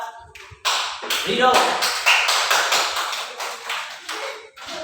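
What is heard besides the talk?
classroom applause for a student named Rido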